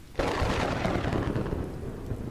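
Thunder rumbles through a rainy storm, a sudden loud crack rolling into a long, heavy rumble over steady rain, with no voices.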